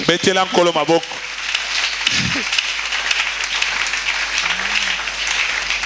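Church congregation applauding in a sustained, broad wash of clapping that follows a brief burst of voices and continues steadily at moderate level, with a short spoken word or two breaking through.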